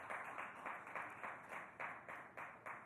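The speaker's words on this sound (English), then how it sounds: "Ladies and gentlemen, big round of applause for Gurjeet Kaur," Audience applause for a winner at a sports awards ceremony, heard as faint, evenly spaced claps that fall into a steady rhythm and repeat about three times a second.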